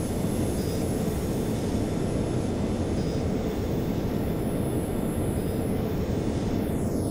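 A Cessna T-37 Dragonfly jet engine in the X-Plane flight simulator gives a constant loud roar with a faint high whine, steady and unbroken throughout.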